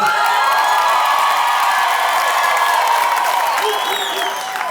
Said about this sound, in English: I deserve much better applause for this